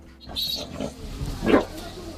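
Pigs raised by the Muyu people, not kept in pens, giving a couple of short grunts and squeals outdoors amid soft ambient noise.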